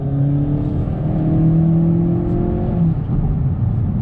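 A 2019 Honda Accord Sport 1.5T sedan with a CVT under throttle, its engine humming steadily and building, a close continuous drone with rising tones and no talk.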